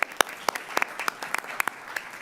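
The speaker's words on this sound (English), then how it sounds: "Could we all give a huge round of applause so loud the library staff across the street can hear it?" A small group applauds at a city council meeting: sparse, separate hand claps over about two seconds, moderately loud, with no voices.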